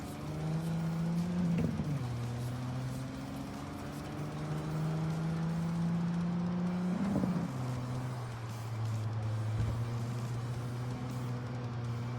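A car engine in a Night City driving game hums steadily, shifting gears twice with brief revs and pitch drops, a sustained mid-level drone alone without voices.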